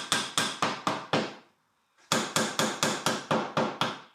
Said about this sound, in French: je peux percer les trous à la profondeur complète et ajouter quelques-unes de ces chevilles de 6 mm